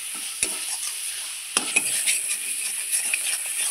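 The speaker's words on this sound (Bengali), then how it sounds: "এই লোটে শুটকিটা প্রচণ্ড হারে সময় নিয়ে ভাজতে হয়" Dried Bombay duck (lote shutki) fries in oil with spices, giving a steady close sizzle with a few sharp scrapes of a spatula stirring against the pan. No one speaks.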